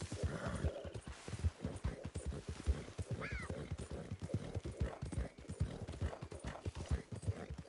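Horse hooves clip-clopping steadily in Red Dead Redemption 2, a dense, even rhythm of hoofbeats that runs throughout, close and moderately loud, with a brief whinny partway through.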